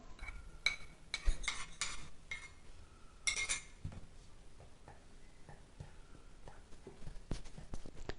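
Spoon scraping and clinking against a metal pan while flour is stirred with roasted cashews and raisins for nei urundai, quiet intermittent knocks and scrapes close by.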